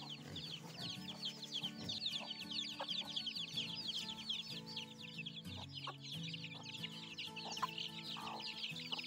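A flock of farm chickens clucks steadily and busily as they gather when called, with overlapping soft clucks, brief squawks and bird chatter close by, and no talking over them.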